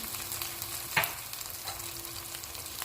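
Spices with tomato puree, chilli paste, fenugreek, turmeric, red chilli powder and salt fry in a pan for fish curry, giving a steady close sizzle broken by a single clink of stirring.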